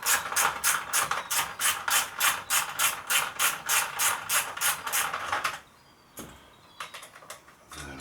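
An M5 Allen key working a bolt loose on a 2019 Triumph Speed Triple 1050S motorcycle, giving a steady run of rapid ratchet-like clicks up close for about five seconds, then a few faint knocks as the bolt comes free.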